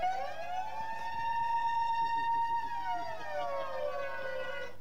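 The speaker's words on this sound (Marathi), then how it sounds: "सायरन तर वाजलाय." An electronic siren wails at the end of a local cricket tournament match, a loud rising and falling tone that holds steady, dips, then climbs again, with faint crowd noise beneath.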